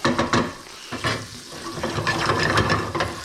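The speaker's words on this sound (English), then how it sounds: "And that's rendering down nicely. Pancetta always smells good when it's cooking." Pancetta fries and renders in a pan, giving a busy crackling sizzle with scattered pops and some stirring scrapes, close and fairly loud, no talking.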